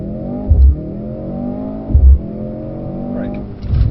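A Mercedes-Benz car accelerates hard on a test track at Weybridge. The engine note climbs, breaks briefly at each gear change and climbs again, loud and close.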